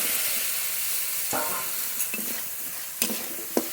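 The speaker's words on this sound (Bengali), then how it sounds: "চিংড়ি মাছগুলো মশলার সঙ্গে একটু মিশিয়ে নেব" Fried prawns stirred into a spice masala in a pan, a steady low sizzle under a few scraping, clattering strokes of a spoon spaced over a few seconds, close and moderately loud.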